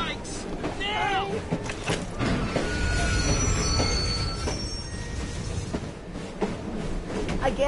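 Train brakes squeal in the Assassin's Creed Syndicate video game, a loud metallic screech with wavering high tones over heavy rumbling wheels and a constant roar, while voices talk through the din.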